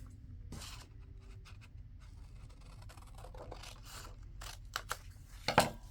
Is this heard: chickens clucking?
no